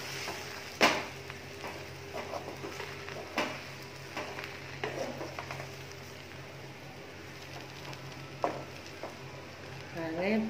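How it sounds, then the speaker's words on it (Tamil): Chilli kothu parotta is stirred and mixed in a pan with the heat switched off, giving intermittent scraping and clattering knocks over a faint sizzle, fairly close, with a few sharper strikes. "சுவிட்ச் ஆஃப் பண்ணிவிட்டு நல்லா மிக்ஸ் பண்ணிடலாம்."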